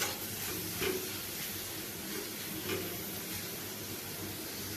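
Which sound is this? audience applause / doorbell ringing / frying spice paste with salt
frying spice paste with salt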